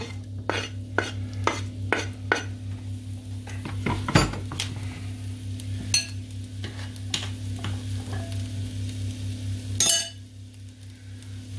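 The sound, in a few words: onions frying on a grill with pans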